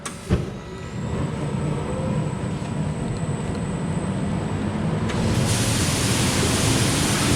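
Large fan atop a paddy rice drying cabinet spinning, a loud, steady broadband whoosh and drone that holds without a break, rising slightly near the end.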